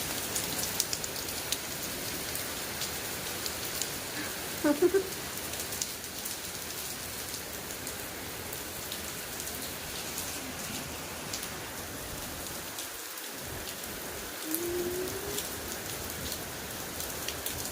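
Heavy rain pours down in Anantapur, a steady, dense hiss of drops hitting surfaces that continues unbroken, with a few nearer knocks and no voices.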